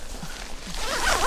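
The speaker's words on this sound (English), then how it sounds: "I'll show what it looks like when you zip it up" A tent bivvy bag zipper is pulled closed in one steady, close stroke that grows louder toward the end, at a beach camp on a bikepacking trip.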